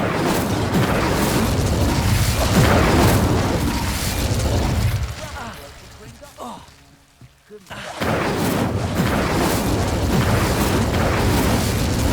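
Incendio fire spell blasts in Hogwarts Legacy roar as loud, dense booming bursts, then briefly drop to near quiet before the fiery rumble returns at full strength.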